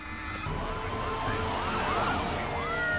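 Wailing police car sirens during a city chase, rising and falling in pitch over a steady roar of traffic and engine noise, moderately distant and continuous.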